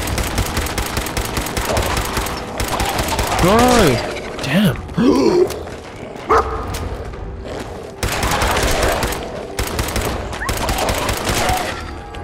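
Gunfire from shooting enemies in Fallout 4, several loud bursts of shots at the start and again near the end, with a voice and game cries and groans in between.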